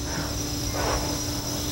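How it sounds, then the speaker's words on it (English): Outdoor crickets and other insects buzz and chirp in a steady, even hum on a sunny, breezy day, with no voices. "I can hear like all the different types of like crickets and bugs buzzing over there"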